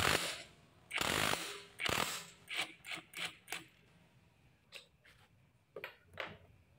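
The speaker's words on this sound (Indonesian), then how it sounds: "Dan selanjutnya kita buka dengan menggunakan kunci mahkota" A ring spanner works a part loose on a Honda Supra X 125 motorcycle during a clutch plate replacement, heard as close, loud bursts of ratcheting metal clicks in quick irregular runs.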